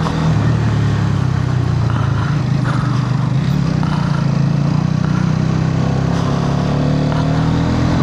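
A Hero Karizma XMR motorcycle rides along with a steady, loud engine drone and wind rush, continuous throughout with no voices.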